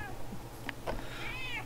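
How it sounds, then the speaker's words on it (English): A pet cat gives a couple of short, close meows followed by a longer wavering call, heard alone over a faint background hum. "don't know if you can hear my cat"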